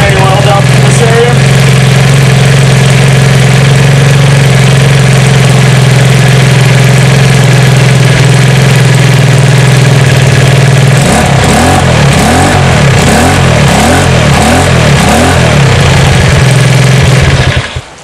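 GY6 139QMB scooter engine running after an oil change, a loud close idle drone that steadies and then turns into a rough, pulsing putter toward the end.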